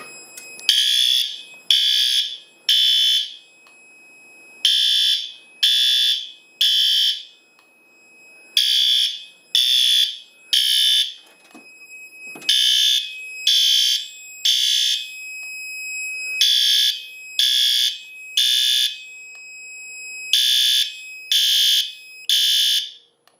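Mini fire alarm horns on an MS-9200UDLS home system sound after a BG-12 pull station is activated, blaring in repeated bursts of three loud, shrill pulses separated by short pauses, with no talking.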